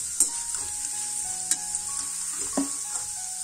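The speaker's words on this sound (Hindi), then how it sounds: "गोल्डन ब्राउन कलर आने तक हम इनको आलूओं को फ्राई करेंगे" Potatoes fry in hot oil for aloo gobi, giving a steady close sizzle with a few light clinks and stirring taps and no talking.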